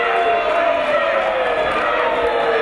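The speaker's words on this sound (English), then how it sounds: "This crowd here in Hull, absolutely not Rampage Brown fans, as you can hear" A loud wrestling arena crowd in Hull, England roars and jeers continuously, a dense sustained wall of voices with a commentator talking over it.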